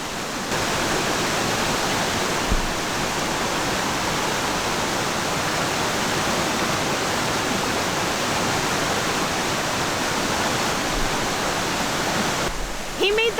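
A river rushes steadily near waterfalls in Grenada, a constant, broad roar of flowing water close by, with faint voices barely audible underneath.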